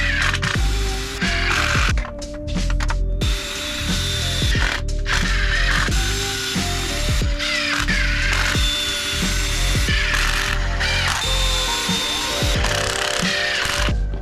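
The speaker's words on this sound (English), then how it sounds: "I just lined up both sides and screwed them together" A power drill drives wood screws to join two shelf side panels in a DIY build. The motor whirs loudly in repeated bursts, each run ending with a ratcheting clutch chatter, close and without any talk.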